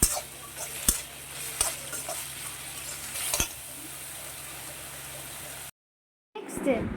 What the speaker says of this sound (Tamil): இப்போ எங்கள் பாட்டி சீக்கிரம் வதங்கணும்னுக்காக கல் உப்பு போட்டுக்கிறாங்க.